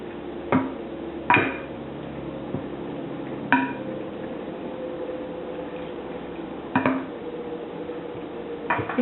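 A spoon works through pasta bake ingredients with cottage cheese in a bowl, giving soft wet squishing broken by a few sharp clinks against the dish, close by with no talking.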